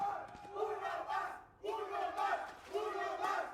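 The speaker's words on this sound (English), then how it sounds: "The chants from the crowd could not be more accurate." A live esports crowd at a Valorant VCT Americas match chants in unison, three rhythmic rising-and-falling waves of many voices, loud and fairly close.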